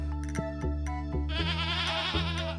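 Stardew Valley farm goats let out a long, quavering bleat that rises and trembles, close and clear, with steady video game music and soft chimes beneath it.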